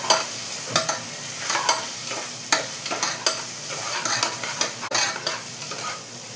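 Masala for prawn biryani sizzles in a pan while a spoon stirs it, with steady frying hiss and repeated scraping clicks throughout and no talking.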